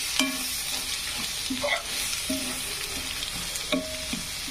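Chopped onions frying in a pan for a vegetable dish, a continuous bright sizzle with rhythmic stirring scrapes and light spoon taps repeating every second or so, close up with no speech.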